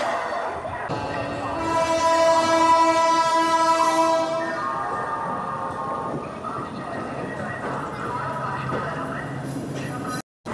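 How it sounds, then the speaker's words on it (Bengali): Shantiniketan Express pulling out of platform 12 at Howrah station: a loud, sustained horn blast, then rising engine and wheel rumble as the train gets moving, heard from close by with voices in the background. "আমাদের ট্রেন তার নির্ধারিত সময় থেকে 1 মিনিট দেরি করে হাওড়া স্টেশনের 12 নম্বর প্ল্যাটফর্ম থেকে বেরোলো"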